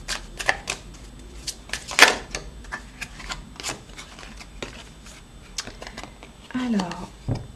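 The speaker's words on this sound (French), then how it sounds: "je vais tirer des cartes" Tarot cards are drawn and handled in a run of sharp clicking snaps and flicks, irregular and close by. A short shuffling rustle follows near the end.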